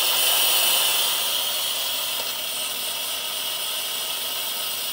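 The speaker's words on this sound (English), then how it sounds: "This dude is letting off steam right now." A small device letting off steam with a continuous loud, bright hiss that stays steady throughout, close by with no voices.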